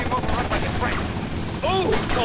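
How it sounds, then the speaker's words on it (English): A helicopter in the video game GTA Vice City gives a continuous whirring rotor drone, mixed with game sound effects and bursts of character voices. "Tommy, take that chopper out"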